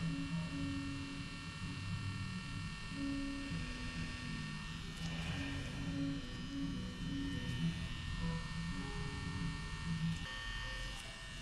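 A tattoo machine buzzes steadily while a tattoo is being done, a continuous low electric drone close by, with quiet chatter and background music underneath.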